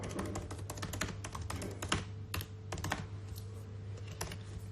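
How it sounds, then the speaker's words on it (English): Quick, uneven typing on a computer keyboard, a close run of light clicking keystrokes over a low steady hum, with no talk. "Sorry, I'm such a slow typer."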